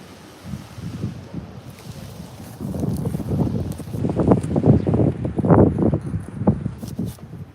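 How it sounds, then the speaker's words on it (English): Steady gusty wind roars and buffets the microphone outdoors where a person stands holding signs, a loud continuous rumble that swells stronger toward the end, with no speech. "Yeah, and it's windy."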